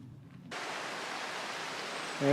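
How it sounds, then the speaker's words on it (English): The Little Sweetwater River flowing at a trail crossing gives a steady, broad rushing hiss that starts suddenly and carries on evenly, close by with no talking. "There's the Little Sweetwater River."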